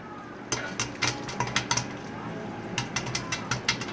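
Popcorn kernels pop in a pot on the stovetop with sharp, crisp bursts that come in irregular clusters, some close together, over a low background hiss.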